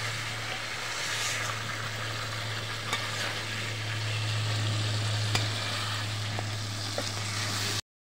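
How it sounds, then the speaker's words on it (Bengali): Fresh carp sautéing in a pan gives a continuous, even sizzle and hiss at moderate volume, with occasional small pops and a low steady hum underneath. "মাছটা আমি কষায় রান্না করবো"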